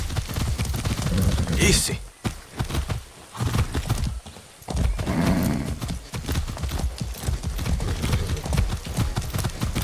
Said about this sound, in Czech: teď jedeme na koni